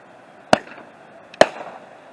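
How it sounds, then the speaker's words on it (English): Two festival ball firework shells burst about a second apart, each a sharp loud bang with a short crackling tail, heard from a distance against a quiet outdoor background. "That was the last festival ball."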